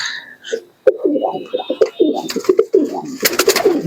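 Pigeons coo, including Chennai, tippler and Madras breeds, in a run of low, rolling calls close by, with a brief rustle or flutter midway and a burst of harsh, noisy sound near the end.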